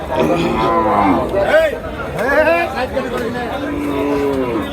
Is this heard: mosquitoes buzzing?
no